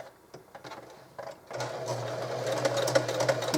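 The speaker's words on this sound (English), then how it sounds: "I'm going to go ahead and stitch this in place" A sewing machine starts with a few soft clicks, then runs steadily with a fast whirring stitch as it sews a vintage linen bag, close and alone with no speech.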